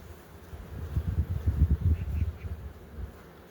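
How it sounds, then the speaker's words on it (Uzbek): Honeybees buzz around an apiary hive during queen introduction, a close, droning hum that swells louder through the middle and eases off toward the end. "Hozircha arilar o'zini tutishi yaxshi."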